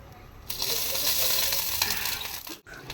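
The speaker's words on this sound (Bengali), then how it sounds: "আমি প্রথমে রসুনটা তেলে দিয়ে দিলাম দিয়ে লাল শাকটা ভেজে নিচ্ছি" Garlic and red amaranth greens sizzle hard in hot oil, a steady loud frying hiss with faint stirring clicks that breaks off briefly near the end.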